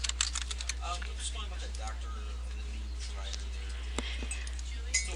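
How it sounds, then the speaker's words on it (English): Rapid clicking keystrokes on a computer keyboard as a patient's name is typed in, quiet and close, with irregular bursts of taps over a low steady hum. "start typing in the patient's name"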